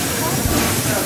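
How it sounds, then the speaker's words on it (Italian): Safety valves on steam locomotive 740 278 venting from the boiler at pressure, a loud, continuous, broadband hiss filling the whole moment up close. "quando la caldaia raggiunge quella pressione lì o la supera di poco, si aprono, lasciano sfuggire un po' di vapore"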